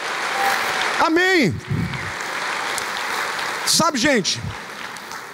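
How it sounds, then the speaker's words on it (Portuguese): Church congregation applauding: a broad, steady wash of clapping runs throughout, close and fairly loud, with a preacher's voice speaking over it in two short bursts. "Você pode aplaudir o Senhor"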